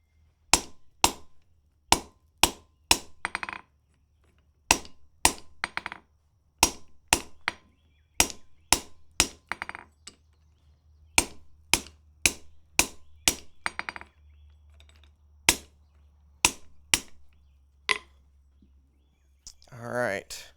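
Sharp metallic hammer blows ring out as forged iron is cut off for a colonial nail header, struck in quick bursts of several hits with short pauses between, close and crisp over a low background hum.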